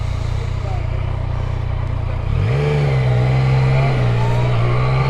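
A car cruising through Nottingham at night, a steady low engine drone that climbs into a stronger revving pitch midway as it accelerates, loud and close.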